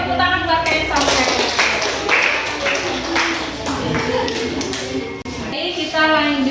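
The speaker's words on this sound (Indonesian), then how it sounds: "Oke, tepuk tangan buat kain songket." A classroom of children claps together in uneven bursts, lively and close, with kids' voices mixed in throughout.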